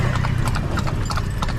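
Hooves of a carriage horse named Rambo clip-clop in a steady rhythm on pavement in a Manila park, close by, over a low background rumble.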